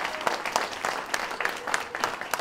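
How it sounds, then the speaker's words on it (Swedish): An audience applauds after a children's theatre performance, a dense, steady patter of many hands clapping with a few louder individual claps standing out, close and continuous. "Det är värt en extra applåd."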